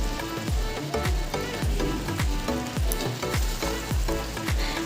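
Steady frying sizzle of pointed gourd curry with spices in a small frying pan, a continuous close hiss running beneath a rhythmic musical beat, no voices.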